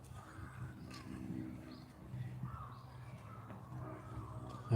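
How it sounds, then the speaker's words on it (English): Crows cawing on a calm, sunny winter afternoon in Tokyo, a few faint, distant calls spread over soft ambient outdoor noise while walking. "Maybe you've heard the crows crowing."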